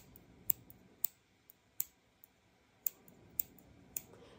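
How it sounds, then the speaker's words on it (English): Sharp, crisp snips of scissors cutting, about seven or eight quiet clicks spaced unevenly, close up with no talking. "When them scissors make that sound,"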